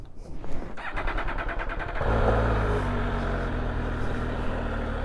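An MV Agusta Dragster RR motorcycle engine rumbles at idle, then swells into a louder, steady roar as the throttle is opened, heard close up and continuous with no speech over it.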